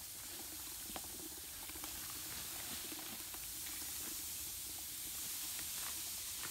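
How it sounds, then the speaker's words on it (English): Iron Out rust remover fizzes steadily as it is poured over crystals during cleanup, a constant soft hissing effervescence with scattered tiny pops and crackles, close and continuous with no talking. "Ooh, look at it fizz up."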